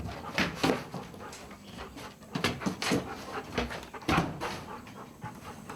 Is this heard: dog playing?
yes